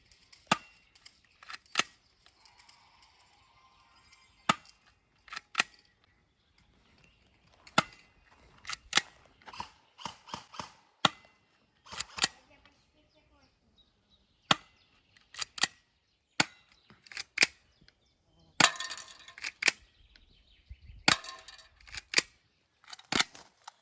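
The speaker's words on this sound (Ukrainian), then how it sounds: "Зараз стрільба з 20 метрів." Master Combat airsoft pistol firing at targets from 20 meters, a series of sharp, fairly quiet snapping shots spaced irregularly, some in quick pairs, with faint impact clicks and no speech.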